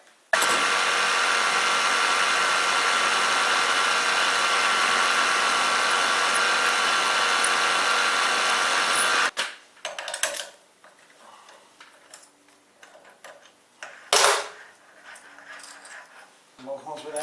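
Metal lathe turning at slow speed while threading an M6 part in a workshop: a loud, steady whirring drone for about nine seconds, then it cuts out, leaving quiet clatter and one brief sharp burst.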